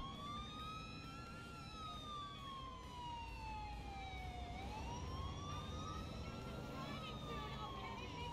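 A wailing ambulance siren in the video game GTA 4 rises and falls slowly over steady traffic rumble, the vehicle sounding fairly faint and at a distance.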